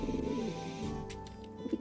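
Birds coo softly in a video game, a faint low warble under steady game music and ambience.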